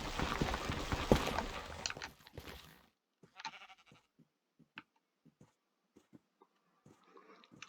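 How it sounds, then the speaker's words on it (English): Sheep bleats from the Minecraft video game are heard amid a loud burst of noise at first, then short scattered bleats and soft thuds spaced apart over near silence. "I see a baby sheep down there."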